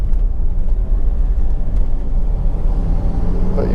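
A Honda CR-V 2.2 i-CDTi diesel engine hums steadily at speed under constant road rumble, loud and close, with no voices.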